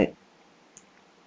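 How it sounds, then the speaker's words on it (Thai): A single short, faint click of a Ctrl+T keyboard shortcut being pressed in Photoshop CS4, heard alone against a quiet background after a brief burst of noise at the start. "โดยการกด Ctrl T นะครับ"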